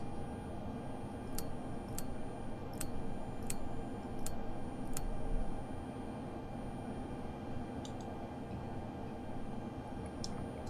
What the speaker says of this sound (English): That's that famous sound of fuel pumps.